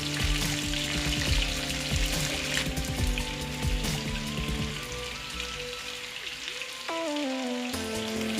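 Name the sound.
chicken 65 deep frying in oil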